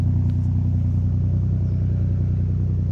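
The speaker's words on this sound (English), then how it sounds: "Taking it around to the back to listen to the exhaust note." Nissan Stagea NM35 with a rebuilt VQ25DET turbocharged 2.5-litre engine idling at the rear, a loud, steady, deep exhaust rumble with a fast even pulse, heard alone and close.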